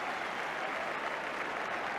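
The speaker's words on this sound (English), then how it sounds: "they are Liverpool supporters to the right as we look, giving warm applause to an old favourite" Liverpool supporters in the stands at a Tottenham v Liverpool football match give warm applause to a former favourite, a steady, dense wash of clapping heard from a distance at low level, with no voices on top.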